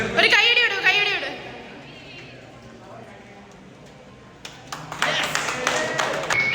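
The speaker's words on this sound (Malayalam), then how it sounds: "ഒരു കൈയടി വിടൂ, കൈയടി വിടൂ." An audience applauds a ladies' team at an Onam celebration in a gym. A burst of clapping opens, then a quieter gap where people talk, and a second loud round of claps and cheers follows near the end.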